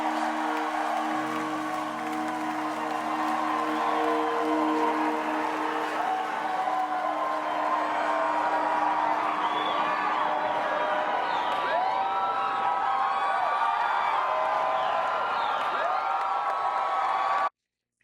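A concert crowd cheering and whooping after a song, a dense sustained roar of voices with scattered shouts rising above it, loud and continuous until it cuts off abruptly.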